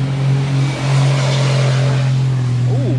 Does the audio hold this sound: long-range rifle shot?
no